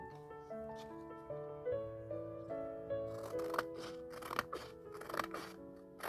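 Soft, close snips of scissors cutting out a vintage-style Christmas art print, quiet and intermittent beneath gentle sustained music.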